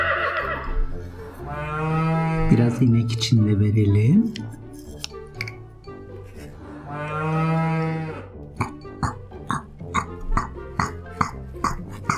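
A cow on a farm gives two long, loud moos a few seconds apart, the second followed by a run of short clicking knocks.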